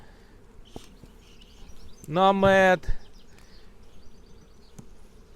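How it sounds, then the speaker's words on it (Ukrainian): Honeybees hum as a low, continuous buzz around an apiary hive, heard close. A person's voice briefly says a word partway through. "Отака кількість е, пчоли."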